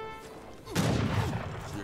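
A volley of musket fire from soldiers in the Age of Empires III: Definitive Edition video game, a sudden loud crackling barrage that rolls out into scattered shots and rumble, with a voice speaking.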